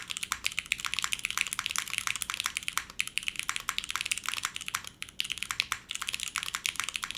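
Rapid, steady typing on a Kohaku mechanical keyboard fitted with Vint switches, a close, dense run of clacky keystrokes with a few brief pauses and no voices.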